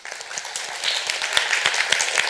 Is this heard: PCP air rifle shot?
no